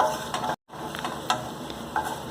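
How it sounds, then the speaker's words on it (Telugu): Cumin and coriander seeds frying in a pan of oil give a steady close sizzle with a few stirring scrapes, broken by a brief silent gap partway through. "అదే ఆయిల్లో కాస్త జీలకర్ర, కాస్త ధనియాలు కూడా వేసేసి"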